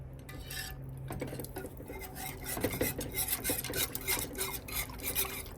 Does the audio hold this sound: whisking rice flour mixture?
yes